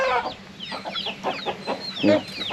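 Chickens on a farm cluck close by as they are let out, in short, irregular bursts, several birds overlapping with quick chattering calls.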